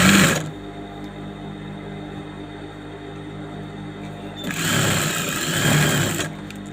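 Sewing machine stitching the lining of a saree blouse, a steady mechanical whir running nearly throughout and swelling louder toward the end, close by and alone without talk.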